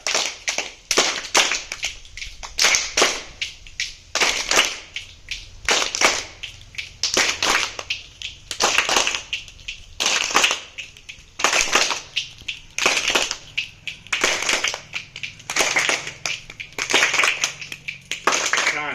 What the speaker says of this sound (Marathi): आता टाळ्याचा तिसरा प्रकार म्हणजे चुटकी टाळी आपण बघणार आहे